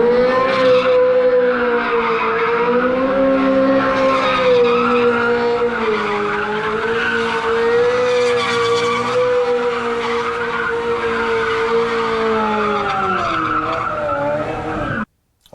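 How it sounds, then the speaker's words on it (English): A Ferrari 355 spun by a driver, tires squealing and skidding in a long continuous howl over the revving engine, loud and close for about fifteen seconds before cutting off abruptly. "Today we're going to see how the 355 does in spinning."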